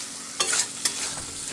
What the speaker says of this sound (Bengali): এবার আমি খুব ভালো করে নেড়ে দেব।